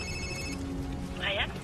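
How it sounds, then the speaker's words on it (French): A telephone rings twice in short electronic bursts, with talk in the background. "C'est un bruit de téléphone?"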